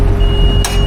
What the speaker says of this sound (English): this one's got a beeper